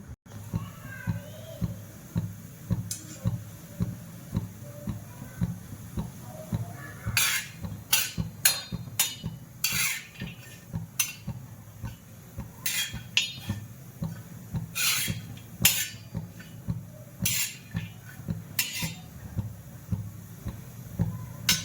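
Grated coconut and masala roast in a little oil on an iron tawa, with repeated rhythmic scraping and stirring strokes against the metal and sharp clinks scattered through. The sounds are close and steady, and no voices are heard.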